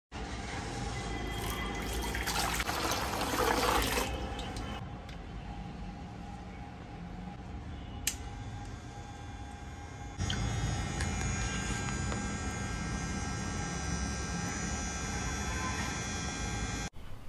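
A homemade clay-pot air cooler with a small water pump and fan runs with a steady hum and trickling water throughout. A single click comes midway, then the noise grows a little louder and keeps going without talk.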